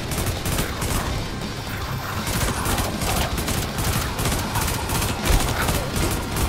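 Rapid gunfire from a FAMAS burst rifle in the video game Zombie Survivors, dense shots crackling continuously through the whole stretch amid chaotic game noise, loud and close.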